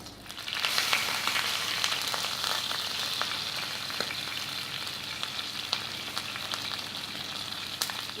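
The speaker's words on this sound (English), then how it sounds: "we're just sealing the meat side off now" Lamb pieces sear meat-side down in a hot pan, giving a steady, close sizzle and crackle with occasional sharper pops, no talking over it.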